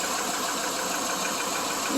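A 2001 Subaru Legacy engine with its cam covers off, running rough and overheating after an upper hose replacement, gives a continuous loud mechanical whir and clatter, close by and steady throughout, with no talk.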